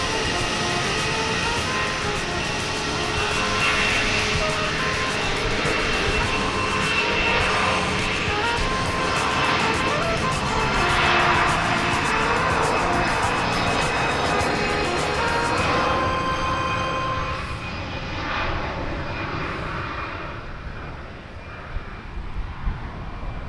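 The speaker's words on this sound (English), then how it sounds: "Wiley the Coati is what you were just looking at there on that Frontier Airbus A320neo" A Frontier Airbus A320neo jet airliner at DFW Airport gives a steady, loud engine roar that holds for most of the span, then eases off near the end with some lighter background noise.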